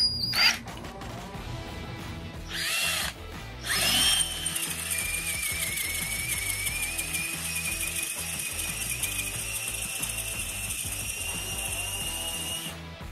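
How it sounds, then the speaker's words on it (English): A power drill fitted with a freshly sharpened spade bit bores through wood, starting in short bursts before settling into a long steady whine with grinding cutting noise, loud and close. "I'm going to test it out"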